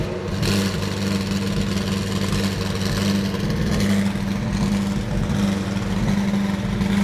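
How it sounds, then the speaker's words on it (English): A McLaren Senna engine idles roughly just after being cranked, a steady mid-pitched hum with uneven, wavering pulses, close and fairly quiet, with no talking over it. "It's idling a little bit rough."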